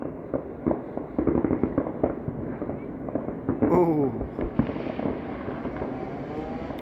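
Diwali fireworks and firecrackers in London pop and crackle in rapid scattered bursts at moderate distance, with a voice exclaiming briefly among them.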